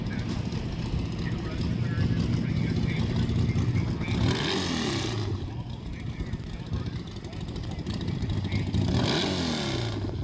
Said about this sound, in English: Got some revs here.